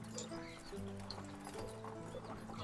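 Horse hooves clip-clop steadily while pulling a cart on a countryside ride, a continuous trotting rhythm running beneath sustained melodic music throughout.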